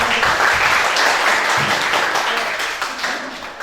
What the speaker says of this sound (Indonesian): Oke, kasih tepuk tangan buat.